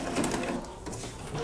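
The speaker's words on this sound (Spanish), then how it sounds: "lo que entra a trabajar es la bomba que estamos escuchando, es la que succiona" An HP 7110 inkjet printer runs its head-cleaning cycle, its small pump whirring and suctioning in a steady, close mechanical drone that continues throughout.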